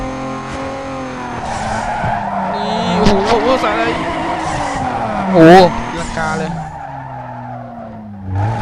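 A car in Need for Speed Underground 2 drifts with loud tire squeals and skids over a steady racing engine drone. A man exclaims excitedly over the screeching.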